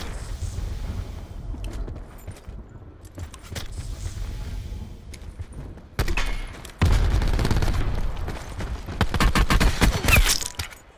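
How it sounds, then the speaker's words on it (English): Evacuation mortars in the Call of Duty Blackout battle royale on the Alcatraz map: sharp, scattered blasts and crackling impacts that grow denser and louder toward the end, over a continuous rumbling game soundscape. "Safe zone evac mortars are in effect."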